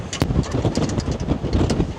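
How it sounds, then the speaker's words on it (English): Strong gusting wind buffets the microphone on a New York City pier, a steady rough roar with louder surges and no voices. "The wind started gusting even stronger."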